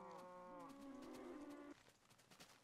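Cattle on a Minecraft cow farm let out a drawn-out, wavering moo with overlapping lowing, close and clear, followed by soft clicks and shuffling with no speech.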